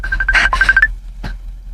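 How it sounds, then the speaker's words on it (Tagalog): A cellphone rings with a steady electronic tone in short repeated bursts for just under a second, then one brief final chirp, close and clear with no talk over it. "May bagti nga akong cellphone."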